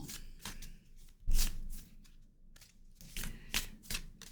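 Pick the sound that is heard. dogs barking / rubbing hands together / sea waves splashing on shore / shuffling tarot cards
shuffling tarot cards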